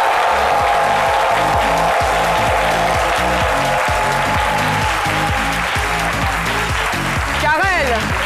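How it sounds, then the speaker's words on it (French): A live television studio audience applauds a guest on a midday talk show, a loud sustained wash of clapping with rhythmic music pulsing beneath it and a brief voice near the end. "que je vous demande d'applaudir."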